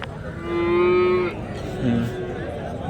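A single long cow moo rings out near and clear, followed by a shorter low moo, over a murmur of background crowd noise at a Punganur cattle market.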